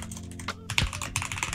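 Computer keyboard typing, a quick close run of crisp key clicks in uneven bursts over a second and a half, alone without speech.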